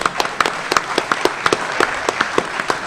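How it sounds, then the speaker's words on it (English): Comic convention panel audience applauding, a burst of clapping with distinct sharp individual claps standing out over a lighter spread of hands, fairly close and lively. "Give me a round of applause, ladies and gentlemen."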